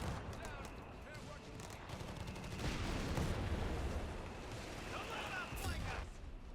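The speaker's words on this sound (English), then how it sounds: "Panzer IV opening fire." Panzer IV tank firing during a winter battle in Company of Heroes 3, with heavy rumbling cannon and gunfire blasts under a dense barrage of combat noise.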